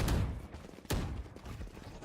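Multiple gunshots in the tactical shooter game Valorant during a collegiate esports match, with a sharp loud crack near the start and another near the middle amid a dense, busy game mix.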